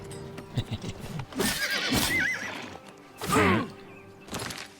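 A horse whinnies several times in loud, shrill bursts in the video game Elder Scrolls IV: Oblivion Remastered, with clip-clop hooves and thuds around it; no talking.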